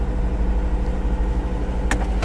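A small car at a salvage yard idles with its hood open just after starting, a steady low engine rumble close by, with a brief sharp knock near the end.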